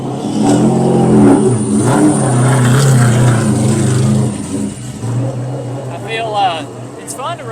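A late model stock race car at Anderson Speedway in a CARS Tour event roars past at speed, its engine revving loud and close before fading away, with people talking over it.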